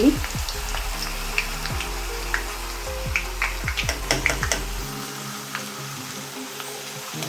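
Potato chips fry in hot oil with a loud, steady bubbling sizzle and crackle, dotted with sharp pops, close by and without talk.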